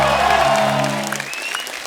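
A television studio audience in India claps loudly as a singer is welcomed onto a comedy talk show stage, the applause fading out quickly behind music.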